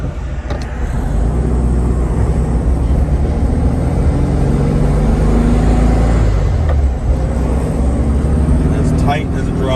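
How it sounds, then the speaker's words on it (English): A couple of cars pass by on a road, their engine and tyre noise swelling and fading over a steady background rumble. "Wait for the couple cars to pass."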